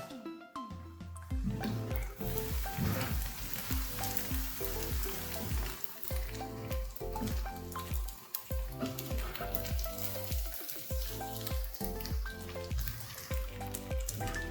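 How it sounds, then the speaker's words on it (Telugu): Dried pasta deep-frying in hot oil for a crispy kurkure snack gives a continuous, dense sizzle and bubbling that runs throughout under rhythmic background music. "ఈ పాస్తా అనేవి మనకి గోల్డెన్ బ్రౌన్ కలర్ వచ్చేదాకా ఫ్రై చేసుకోవాలి"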